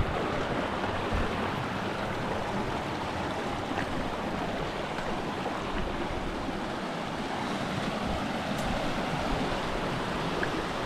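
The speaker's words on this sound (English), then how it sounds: "The good sounds of the water and some birds singing around this area." Waves wash steadily onto a Caribbean shore in a continuous, broadband surf roar with gusty wind, nearby and fairly loud, with no voices.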